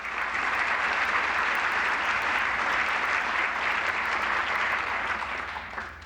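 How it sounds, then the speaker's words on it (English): Steady, dense applause from the audience at a Winchester Sports Hall of Fame ceremony, filling the whole stretch at an even level before thinning slightly at the end. "I think another round of applause for Sam."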